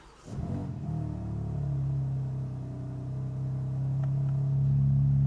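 A BMW M4 CSL engine cranks and fires, then settles into a deep, loud, rumbling exhaust burble that swells slightly with light revs.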